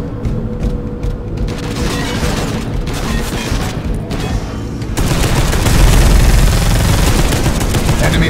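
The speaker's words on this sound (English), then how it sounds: "Be alert. Heavy Stubber." Heavy stubber machine gun fire in Space Hulk: Deathwing, a loud, dense stream of rapid shots that runs without a break, growing heavier and booming partway through.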